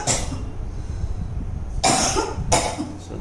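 A woman patient, two weeks after laparoscopic ventral hernia surgery, gives two loud, close coughs in a row after a quiet pause.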